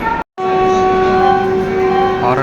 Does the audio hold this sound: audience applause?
no